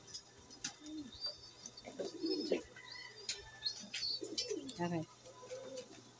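Pet fancy pigeons coo in low, soft bursts close by, with scattered chirps and tweets from other birds, while someone speaks briefly.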